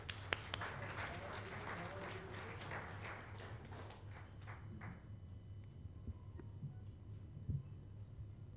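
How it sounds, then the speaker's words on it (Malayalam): An audience at a summit on small and medium businesses applauds an award honoree, with brisk clapping that thins out and fades to scattered claps and room noise. "Let's give A big clap."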